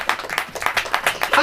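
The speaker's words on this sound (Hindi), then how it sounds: "ताली हो जाइए।" Congregation in a church clapping in bursts of rhythmic applause, loud and close, with a voice mixed in.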